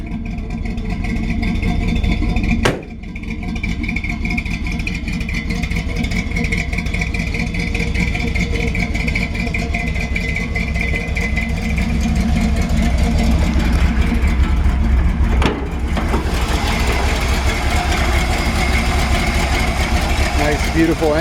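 A 1965 Chevrolet C10 pickup idles steadily with a loping, uneven exhaust rumble, loud and close throughout, with a couple of brief sharp knocks along the way.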